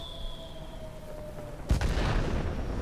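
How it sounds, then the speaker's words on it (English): A bomb dropped from an NC 1070 plane in World of Warplanes explodes after a stretch of engine drone, a single loud boom breaking in sharply and trailing into a rumbling, crackling wash of noise. "Drop that bomb."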